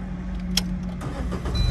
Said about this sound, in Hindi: अब कार को स्टार्ट करो,